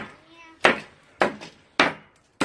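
A hammer strikes a remote control car four times in a row, sharp loud cracking blows about half a second apart, each with a brief rattling decay, and a voice is heard before the first hit.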